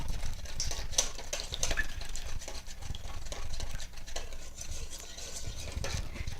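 Chocolate cream pie filling being mixed in a bowl, with quick, close tapping and clinking of a whisk or utensil against the bowl, repeated at a steady busy pace.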